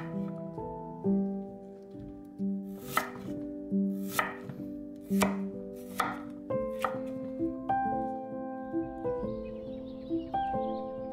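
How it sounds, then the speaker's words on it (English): A knife slices fresh bamboo shoot thinly on a cutting board, a run of crisp, separate chops at an uneven pace over soft background music, close and clear. "Shave a bit of the tough walls of the base. And slice thinly."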